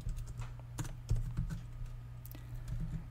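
JavaScript code being typed on a computer keyboard: a quick, uneven run of close, crisp key clicks over a low steady hum, with no talking.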